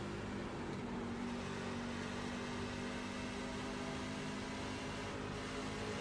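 A racing car engine drones in a video game, a steady, fairly faint whine with a constant pitch and no talk over it.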